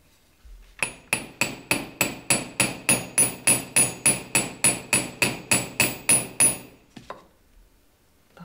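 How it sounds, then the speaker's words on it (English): Metal hammer striking a handmade ring to shape an arc, about twenty sharp, evenly spaced blows in a steady quick rhythm, close and loud, then a couple of lighter taps. "I'd like to hammer out that arc there"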